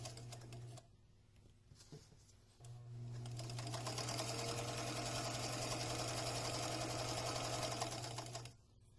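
Close, steady whirring of a sewing machine running a straight stitch along a fabric sleeve for a French horn, starting briefly, pausing, then running continuously for several seconds before stopping.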